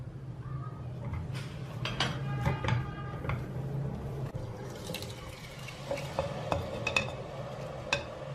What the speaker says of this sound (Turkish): Bir kaşık un ekleyerek şimdi böyle güzelce bir kavuracağım.